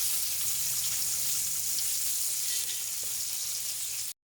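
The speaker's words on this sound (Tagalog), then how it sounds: "Oh, try garlic, onion. Stir fry with the oil." Garlic and onion stir-frying in oil in a wok make a steady, bright sizzle that holds close and even for about four seconds before cutting off abruptly, with no voices.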